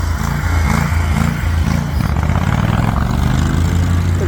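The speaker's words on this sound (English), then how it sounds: "Get past the mower." A lawn mower engine runs close and loud, a steady pulsing low drone that holds for the whole stretch with no talk over it.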